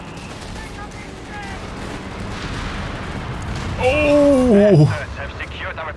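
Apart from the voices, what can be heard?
satchel charge and dive bomb explosions in Company of Heroes 3 video game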